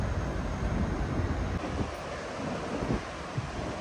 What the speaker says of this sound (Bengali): বেশ মেঘলা ওয়েদার আর তার সাথে একটা হাওয়া দিচ্ছে